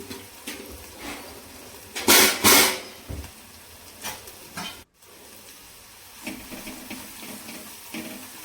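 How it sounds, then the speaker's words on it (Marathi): A brief burst of pouring water splashes into a pot of patwadi rassa curry on low gas heat, followed by quieter stirring and faint sizzling. "त्यानंतर यामध्ये पाणी टाकायचं."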